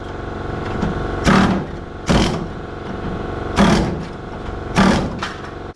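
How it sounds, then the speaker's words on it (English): A pneumatic air hammer cuts rusted body metal on a 1978 K5 truck in four loud chattering bursts, each about half a second long, with a compressor-like hum and workshop drone between them. "Air hammer time."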